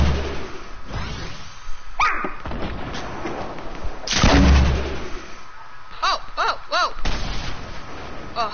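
Gunfire in a PS4 video game, several heavy booming shots and thuds spread across the stretch, with a player briefly exclaiming between them.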